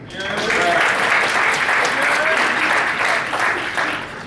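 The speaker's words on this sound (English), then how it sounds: "Let me get a round of applause for Chocolate City" A crowd at a 50th anniversary event applauds Chocolate City: loud, dense, continuous clapping that swells quickly and holds steady, with scattered voices and a few whoops within it.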